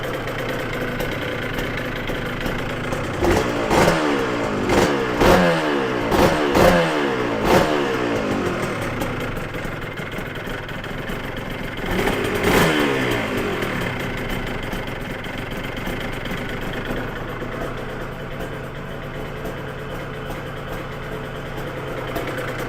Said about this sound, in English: we've got the bike running now